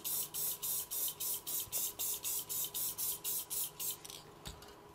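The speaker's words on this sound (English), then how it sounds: "take some clear spray paint" Clear spray paint hisses from a can onto a 3D-printed part in a rapid series of short, even bursts, about a dozen close puffs, followed by a brief quiet stretch.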